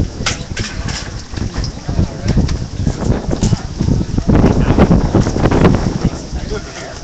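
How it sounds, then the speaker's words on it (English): Strong wind on a windy day outdoors, buffeting the microphone with loud, continuous rumbling gusts that swell and ease over several seconds, no clear speech. "Beautiful day out here, a little bit windy, but if it wasn't, we'd be sweating."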